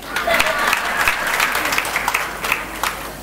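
Applause from an audience at a spiritual discourse, dense overlapping claps sustained steadily throughout at moderate loudness, with some voices mixed in.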